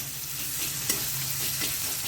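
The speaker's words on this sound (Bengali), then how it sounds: "পেঁয়াজ একটু ভাজা ভাজা করে নিয়েছি।" Chopped onions frying in a pan on medium flame for a chicken curry, a steady close sizzle with a brief stirring scrape near the middle.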